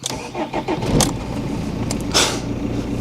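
A supercar engine is started with a jumper pack: a short cranking burst catches and fires, then settles into a steady, close idle.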